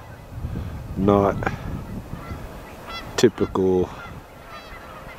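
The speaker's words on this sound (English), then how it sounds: "the geese that gathered out here on the golf greens" Geese gathered on golf greens honk in a few short bursts of loud nasal calls, some overlapping, over a soft outdoor background with quiet stretches between calls.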